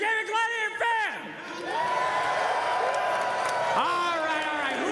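A crowd of fans cheering and whooping at a Dota 2 esports event, a sustained, swelling roar of voices, with individual yells and shouting rising above it near and loud.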